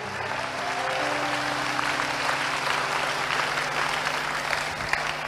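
Church congregation clapping during a Sunday service, a steady spread of hand claps through the room with a sustained organ or keyboard tone underneath and some voices mixed in.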